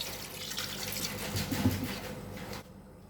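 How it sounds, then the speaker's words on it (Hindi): Water from a glass pours into a pressure cooker holding chicken, a steady splashing trickle lasting a couple of seconds before stopping abruptly, close and fairly quiet. "तो इसमें मैंने ये 1 गिलास पानी शामिल करना है"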